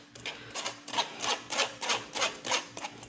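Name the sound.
scraping chicken liver pâté through a strainer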